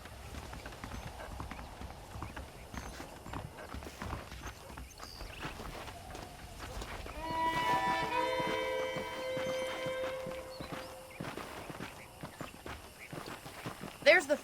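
Horses clip-clop along in the Red Dead Redemption video game, with steady hoofbeats throughout and a brief neigh, over a game soundtrack with tonal music in the middle.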